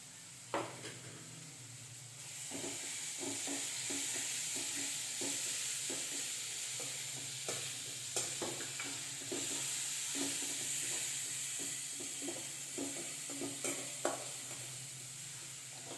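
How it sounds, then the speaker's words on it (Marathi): Marathi-style green chili thecha paste fries in a pan with a steady, close sizzle, while a spatula stirs it in repeated rhythmic scrapes and taps. "छान मिरचीचा ठेचा आता आमचा परतलेला आहे।"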